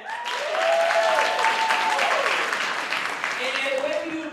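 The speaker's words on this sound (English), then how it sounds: "Clap it up for that." Audience at a youth poetry slam applauding steadily, a dense wash of clapping that holds for several seconds while a voice speaks over it.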